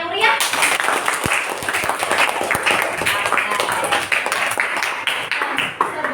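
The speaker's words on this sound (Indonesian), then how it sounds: "kasih apresiasi buat kalian dulu, tepuk tangan yang meriah" A class of sixth-grade children claps and cheers together in a classroom, with a dense, continuous patter of hand claps mixed with excited young voices, loud and close.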